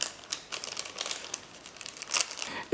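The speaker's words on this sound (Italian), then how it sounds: "con un taglierino, praticare dei tagli, in questa maniera." Plastic mushroom grow bag being cut with a utility knife, a series of faint crinkling, scratchy slicing sounds close by with no talking.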